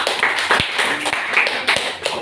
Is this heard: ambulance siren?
no